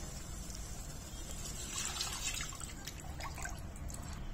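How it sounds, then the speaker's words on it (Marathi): Cooked dal water is poured into fried masala in a pan, giving a soft, steady liquid splash and trickle that sounds faint and close, with no talk. "आता यामध्ये शिजलेल्या डाळीचं पाणी घालून घ्यायचं"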